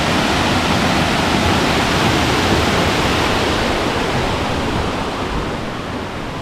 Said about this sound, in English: Oh, waterfall.